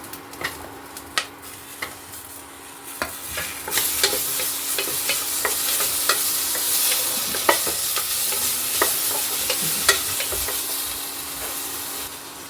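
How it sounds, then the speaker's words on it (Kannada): Chopped tomatoes fry in a hot pan for a tangy ivy gourd curry, with a steady sizzle and a hiss that builds partway through. A spoon stirs and scrapes against the pan again and again, giving sharp clicks and knocks, and nobody speaks. "ಇವಾಗ ಟೊಮೊಟೊ ಹಣ್ಣು ಹಾಕ್ಕೊಂಡು ಹುರಿಬೇಕು"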